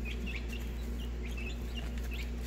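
Chickens cluck and chirp at a feeder, several birds giving short, scattered calls over a steady low hum, fairly close and moderately quiet.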